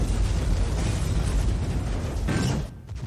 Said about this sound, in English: This is the explosion that took up a huge portion of the budget